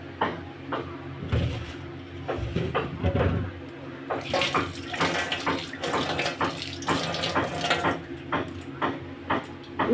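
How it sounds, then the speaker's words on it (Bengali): Fresh coriander leaves are rinsed under a running kitchen tap, a steady splash of water with light handling noises and brief louder gushes, close and continuous with no talk. "আমি ধনে পাতা ধুয়ে"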